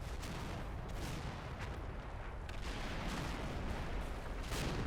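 Tank gunfire rumbles through a Combat Mission battle as a Sherman takes a hit, with dense, continuous booming and crackling throughout and a few sharper impacts standing out from the low roar.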